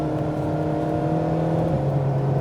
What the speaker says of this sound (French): Allez, gaz, reste en 4 à fond.